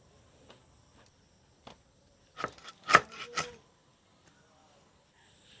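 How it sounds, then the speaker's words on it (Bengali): A knife cutting bhetki fish fillets, a few soft taps early then a short cluster of four or five close, crisp chopping strokes in a quiet kitchen. "মাছটা কাটা হয়ে গেছে"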